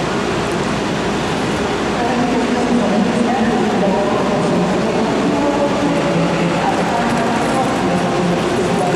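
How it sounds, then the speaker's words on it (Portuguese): A train pulls into Munich railway station, its broad rumble and rolling rail noise filling the platform steadily, with a person talking over it. "próximo trem chegou"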